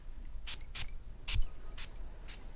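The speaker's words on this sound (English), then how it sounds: "Let's go spray this thing right now." Guy Laroche Drakkar Bleu fragrance spritzed from its atomizer several times, about five sharp hissing bursts spaced unevenly and heard close up with no talking.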